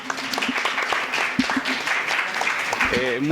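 Audience applause for the panelists at a book presentation, a steady patter of clapping across the room with a voice starting to speak over it near the end.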